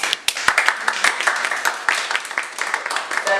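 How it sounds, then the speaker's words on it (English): Audience applause for language students at a social club event, a dense patter of many hands clapping at moderate volume, with a few sharper claps standing out through the whole stretch. "I will give a round of applause for our students"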